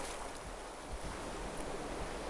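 Tramontana wind gusting along the Costa Brava coast, a steady broadband roar with buffeting rumble against the microphone, constant and fairly faint, with no speech.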